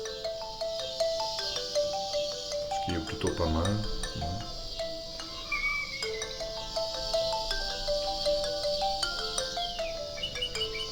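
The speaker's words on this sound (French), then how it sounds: "on va écouter un peu les sonneries" Phone ringtones from an InFocus M808 smartphone play one after another: bright electronic melodies and chirpy tones, with a brief stretch of someone talking over the music partway through.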